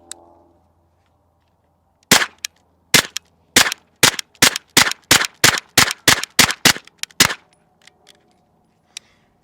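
A B&T TP9 firing SuperVel 115 grain certified select remanufactured rounds: about ten sharp, loud reports, mostly in a quick, slightly uneven string after a short quiet start, with a faint ringing tail after each shot.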